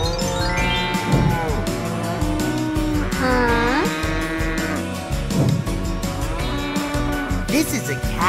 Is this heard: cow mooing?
yes